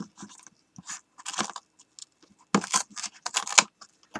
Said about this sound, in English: I'm going to come in here with my Tim Holtz scissors and just snip those off.